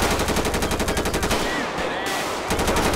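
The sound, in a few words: gunfire from a big gun in the video game GTA 5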